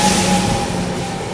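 Passing Dibrugarh Rajdhani Express crossing alongside an Indian express train near Guwahati, a loud, close, continuous rumbling roar of rolling carriages throughout with no break.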